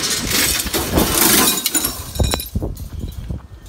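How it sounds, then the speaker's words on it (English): Scrap glass breaking and clinking during scrap sorting, a dense crunching shatter for about two seconds, then a few sharper separate clinks as the pieces settle, close and fairly loud with no talk. "Glass gets pretty gnarly"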